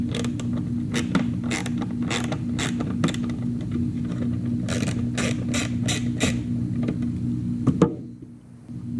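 Tiny 3/16 bolts being worked out of a 2000 C5 Corvette HVAC display produce close, repeated creaking ratchet clicks in quick bursts over a steady low mechanical hum, which drops away near the end.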